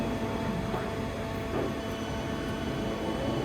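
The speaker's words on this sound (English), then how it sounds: "The spindle's running at 50 RPM there" A Schiess 64-inch CNC vertical lathe spins its spindle at 50 RPM, a steady mechanical whir and hum of moderate loudness with faint clicks, continuous and without speech.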